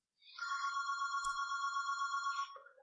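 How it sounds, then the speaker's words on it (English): An office telephone rings once in a single sustained electronic trill, loud and close, in an otherwise silent room. "I'm gonna wait for the phone to stop ringing."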